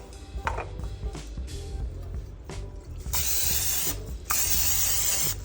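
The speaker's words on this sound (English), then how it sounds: "I like to spray my pans." Pam cooking spray hisses onto bread pans in two sustained bursts, close and loud, after a few light clanks and handling noises.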